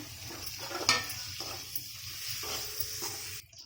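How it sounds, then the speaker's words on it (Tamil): Boiled eggs go into frying masala for an egg pepper fry, giving a steady close sizzle with stirring scrapes and one sharp clink against the pan, before the sound cuts off near the end, with no talking. "இப்போ வேக வச்ச முட்டையை சேர்த்துக்கிறணும்"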